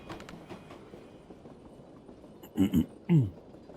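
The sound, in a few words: train sound in video game Tactical Breach Wizards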